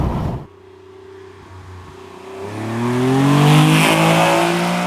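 A TVR Sagaris sports car engine revs up hard after a brief pause, its rising roar climbing through the gears and growing loud and close.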